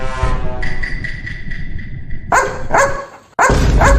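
A dog barks loudly and close by at a house during a delivery, several sharp barks in quick bursts with whining tones between them and a brief pause before the last burst.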